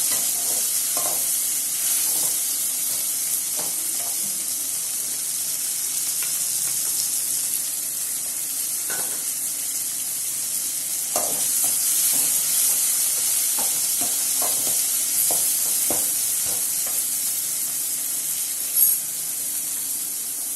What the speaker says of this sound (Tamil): டொமேட்டோ, தக்காளியை வந்து என்ன பண்ணுறோன்னா இது மாதிரி நல்லா வதக்கிக்கோங்க